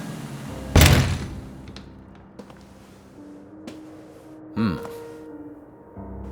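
Front door of a house in the revenge-themed video game The Cleanse: a heavy thump as the door is pushed open, then quiet ambience and a second, softer creak-and-knock about four seconds later, with no voices.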